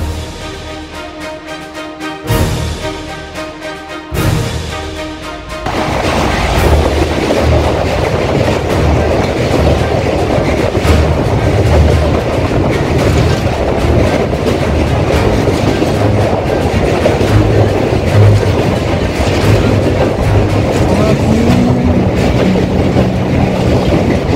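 A Howrah to Digha local train rolls along steadily, a loud continuous rumble with rhythmic clickety-clack of wheels on rail joints, after a brief quieter stretch at the start.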